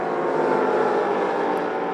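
A Porsche race car engine screams at almost 9,000 rpm during a 2004 Rolex Sports Car Series race at Virginia, a loud, sustained high-revving drone with no break.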